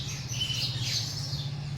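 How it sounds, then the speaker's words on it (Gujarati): Sparrows chirp in the morning, giving faint, high, twittering calls that overlap continuously above a steady low hum in the background. "સરસ મજાનો અવાજ આવી રહ્યો છે ચકલીઓનો."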